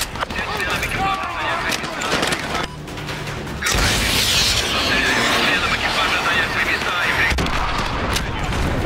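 Heavy explosions and gunfire from an AGM missile strike in the Call of Duty Modern Warfare 2 Remastered Contingency mission: a dense rumbling barrage that surges into a loud, sustained blast roar, with voices faintly underneath.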